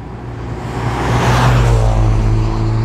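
A Ford Focus RS race car engine in a VR racing game roars steadily, its pitch shifting as it brakes for a corner, loud and close with no voices.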